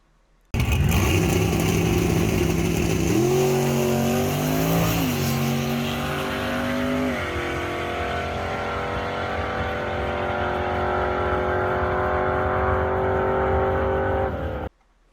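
A V6 Plymouth Laser, a foot-brake drag car, makes a drag racing pass. The engine bursts in loud and close, revving and climbing through gears with pitch sweeps, then holds a sustained high-revving roar before cutting off abruptly.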